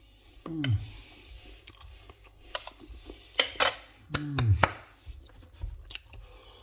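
Crispy food is chewed close to the mic in a few crunchy, crackling bites with short pauses, alongside faint clicks and a brief voice.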